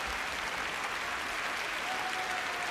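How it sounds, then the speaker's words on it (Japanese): A large arena crowd roars with sustained cheering and applause during a figure skating medal ceremony, a broad continuous wash of sound heard from a distance. "大きな歓声です"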